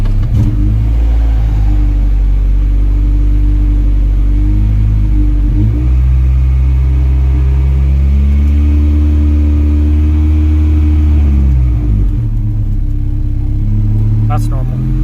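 A Honda Integra DA engine warms up at a steady, loud idle rumble with slight pitch shifts, close and continuous throughout.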